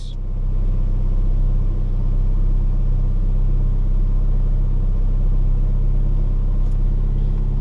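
A Mazda MX-5 engine runs steadily close by after a standalone ECU install, a continuous low rumble with an even idle tone and no voices.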